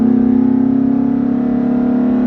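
A Ford Raptor truck's engine pulls hard under acceleration, a loud steady mid-pitched drone that holds strong throughout without any talk over it.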